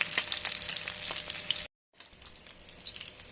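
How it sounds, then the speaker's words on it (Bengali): Fish frying in a pan, a close crackling sizzle with sharp spattering pops, broken by a short total dropout before resuming slightly softer; no voices. "আমাদের মাছ ভাজা প্রায় হয়ে এসছে"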